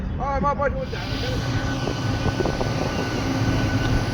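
An airplane reverses at an airport, giving a loud, continuous engine roar that stays steady throughout. A brief tonal sound is heard near the start.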